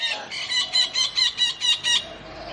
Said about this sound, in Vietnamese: Vẹt kêu kinh à.